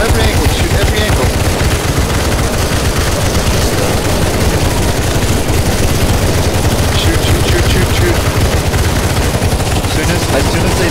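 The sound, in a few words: gunfire in the video game CS:GO zombie escape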